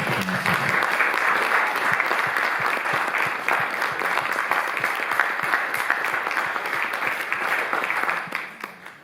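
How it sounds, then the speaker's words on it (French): An audience applauds Margarethe von Trotta at a screening event at the Goethe Institut in Paris, with dense, steady clapping that holds loudly for about eight seconds and then fades out at the end. "wir applaudieren Margarete von Trotta"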